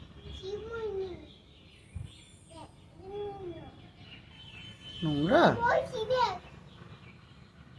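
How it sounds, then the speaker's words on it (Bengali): A bird calls outdoors in several clear chirping phrases, with a young child and an adult talking over and around it. "পাখি? দেখ না, দেখো"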